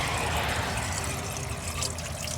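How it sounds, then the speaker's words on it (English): Coolant poured into the cooling system of a Chevy Cruze, a steady, close liquid rush and trickle that stays continuous and fairly even throughout, with no talking. "Let me put coolant in the cooling system."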